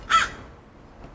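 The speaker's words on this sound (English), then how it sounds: "That bird just doesn't want to stop. It's been making a lot of noise" A single harsh, crow-like caw rings out once near the start, clear and moderately close, then fades into quiet background. No one speaks.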